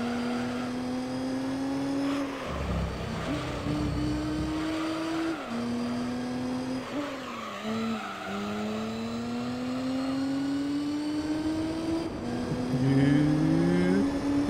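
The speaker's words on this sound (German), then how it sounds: "Der Motorsound ist auch okay," A race car engine in Gran Turismo 3: A-Spec revs up through several gears, with repeated rising pitches and brief drops at each shift. One downshift comes with some tire squeal, and the engine stays loud and continuous throughout.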